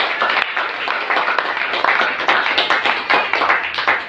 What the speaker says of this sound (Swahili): Pigia Yesu makofi tena.